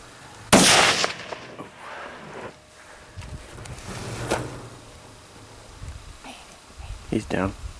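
Single sharp rifle gunshot during a deer hunt near Sheridan, Wyoming, a loud close crack with a brief echo, followed by wind noise and people talking quietly.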